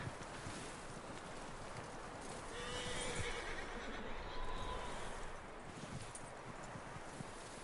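A horse in Red Dead Redemption 2 lets out a whinnying neigh amid clip-clopping hooves and light wind, fairly close and clear, with no talking.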